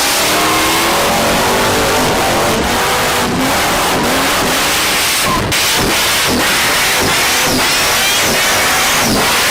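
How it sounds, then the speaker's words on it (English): Loud, close engine of the Donk car screams through sustained high revs during burnouts, with tire squeal and hissing, rising and falling in pitch throughout, no voices. "Doing burnouts."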